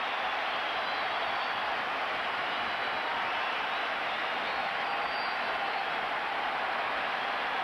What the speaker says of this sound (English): And again, the huge crowd in the big ballpark